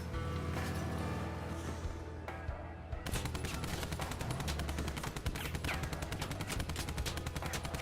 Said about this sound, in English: These are a rapid fire machine gun that does hit damage.